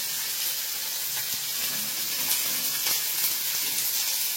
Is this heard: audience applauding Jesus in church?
no